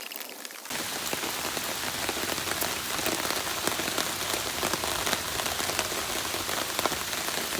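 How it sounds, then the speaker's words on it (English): Heavy rain pours down steadily, a dense constant hiss with scattered drops pattering nearby, loud and unbroken. "It's a whole lot of rain, and it just keeps getting worse."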